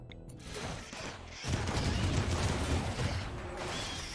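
Turrets in a RimWorld kill box open fire, a sudden burst of rapid crackling gunfire and mechanical clatter that swells loud after a brief quieter start and keeps pounding steadily.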